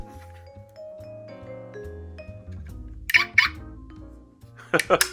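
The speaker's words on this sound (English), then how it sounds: "The alarm goes with the lights," An electronic Audi RS 5 DTM toy car alarm chirps and warbles in wavering tones, with a couple of louder squawking bursts and people talking over it.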